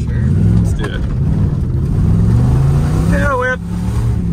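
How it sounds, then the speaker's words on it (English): A Dodge car doing a tire burnout, its engine roaring loud and steady with rising revs throughout, while people talk over it. "should we burn the tires off this thing?"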